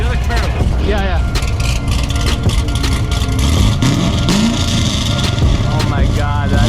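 A Corvette engine revs at an outdoor car meet, loud and continuous with rising and falling pitch sweeps, over a steady crowd and traffic background with people talking nearby.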